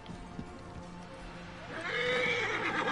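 A horse in the Assassin's Creed Origins game setting of ancient Egypt gives a loud whinny near the end, with a few soft hoof clops earlier over a low ambient game backdrop.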